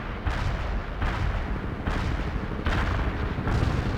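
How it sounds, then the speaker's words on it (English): Artillery strike in the video game World in Conflict: heavy shell blasts and rumbling booms land in a rapid series of bursts, loud and continuous throughout. "Artillery strike on the way."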